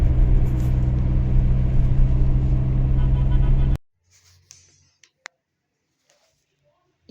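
Car traffic rumbles outside on a cold evening as a loud, steady, dense roar with a low hum, then cuts off abruptly to near silence broken by a few faint clicks.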